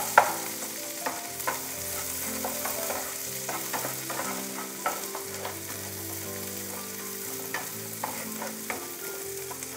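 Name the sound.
frying freshly picked greens with garlic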